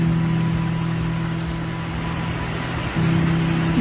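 Rain falling outdoors on a wet day at a wrestling school, where a soaked tarp is being folded; a steady hiss of rain with a low hum running underneath and a brief dip near the end, no voices.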